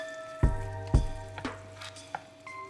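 Mushrooms sauté in butter in a pan, a soft sizzle punctuated by about six sharp knocks and scrapes from a wooden spoon, with no voices.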